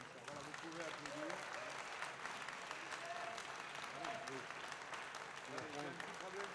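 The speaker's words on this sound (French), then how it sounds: "vous pouvez applaudir" Audience applause at a ribbon ceremony, steady dense clapping throughout at moderate distance, with a few voices talking over it.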